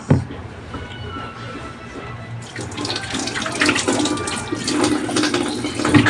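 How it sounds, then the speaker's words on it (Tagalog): Hands washed under a running tap, water splashing steadily into a sink, quieter at first then louder and fuller as the hands move through the stream, close by with no talking. "Hugas muna ako ng kamay."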